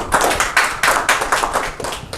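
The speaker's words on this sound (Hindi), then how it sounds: "जोरदार से तालियां हो जाएंगी।" An audience at a community event claps loudly and energetically, with sharp, closely spaced claps forming a strong, continuous round of applause.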